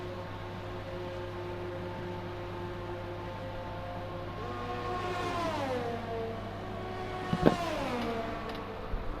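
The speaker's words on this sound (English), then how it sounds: "Now Shay Smithey is coming into the pits" A Formula 1 car in the F1 2020 racing game slows into the pits at the Italian Grand Prix, its engine whine dropping in pitch over a steady hum, with a sharp click near the end.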